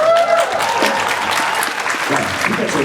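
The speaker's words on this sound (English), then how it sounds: "you guys are way bigger cheer than I did" A fan expo crowd at a Star Trek Discovery panel applauds and cheers loudly and steadily from the first moment to the last, dense clapping close and full without a break.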